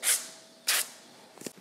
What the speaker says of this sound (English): I'm gonna lightly spray these liners